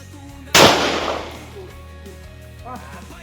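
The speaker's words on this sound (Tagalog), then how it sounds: "Isang putok." A single sharp gunshot cracks loudly, followed by a fading echo, with faint voices and background hum around it.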